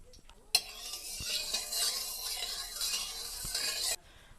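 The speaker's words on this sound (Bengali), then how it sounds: "পটলগুলো তেলের মধ্যে ছেড়ে দেব একদম হালকা আঁচে পটলগুলো ভালোভাবে ভেজে নেব" Pointed gourds rubbed with salt and turmeric hit hot oil in a wok with a sudden burst of bright sizzling that holds steady for about three seconds, with a few utensil knocks, then cuts off abruptly.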